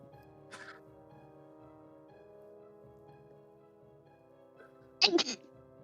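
A single sneeze bursts out near the end, loud and close, with a smaller throat sound earlier, over a low room hum and quiet background.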